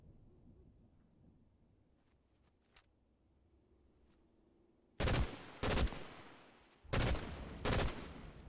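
Four loud, heavy sniper rifle shots in Fortnite, in two close pairs about a second and a half apart, each a sharp crack with a short rumbling tail, preceded by quiet ambience and a few faint clicks.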